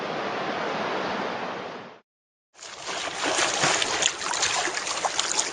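Ocean waves and tide wash onto a Hawaiian beach in a steady, loud broadband rush that cuts out briefly, then returns with rolling surges and splashy crests.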